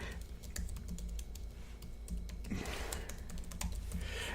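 Someone types on a computer keyboard in an office, soft irregular key clicks over a steady low hum, close and fairly quiet, with no voices.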